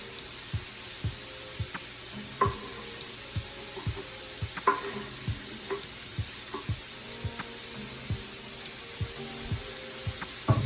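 Vegetables fry in bacon grease in a pan with a soft continuous sizzle, punctuated by regular scraping and stirring knocks from a utensil, close and fairly quiet without talking.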